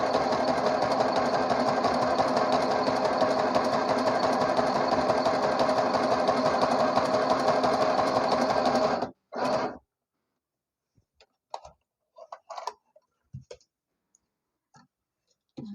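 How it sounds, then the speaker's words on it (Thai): A sewing machine runs steadily through zigzag edge-finishing stitches on garment fabric for about nine seconds, then stops abruptly, leaving near silence with a few faint clicks and handling taps. "ข็มเขาจะยิงไปมาไปมาแซกตามตัวนี้เลย"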